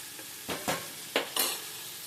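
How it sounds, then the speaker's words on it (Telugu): Radish pieces fry in hot oil under a steady low sizzle, while a utensil stirs them in four short scraping strokes in a home kitchen; nobody speaks. "అలా వాసన రాకుండా ఉండాలంటే ఇట్లాగా నూనెలో బాగా ఇవి వేగాలి."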